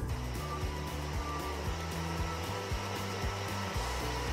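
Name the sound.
blender blending bananas with coconut milk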